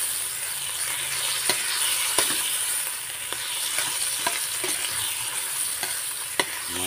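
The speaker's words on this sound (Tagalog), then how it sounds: "Gisahin lang natin ang mabuti yan" Upo gourd and dried fish sautéing in a hot pan, a steady bright sizzle with occasional sharp clicks of stirring, close and alone without talk.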